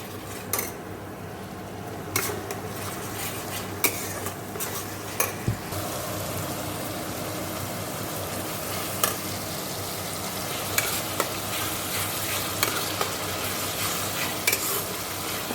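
Spices with turmeric frying and sizzling in a pan while being stirred, a steady hiss with intermittent sharp clicks of the spoon against the pan, close and continuous.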